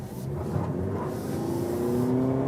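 Toyota Prius Prime plug-in hybrid petrol engine kicking in while accelerating, a steady close engine drone with rising pitch under road noise and no talk.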